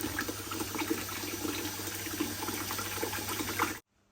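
Water pours steadily into an aquarium during a water change, a continuous close splashing and gurgling that stops abruptly at the end.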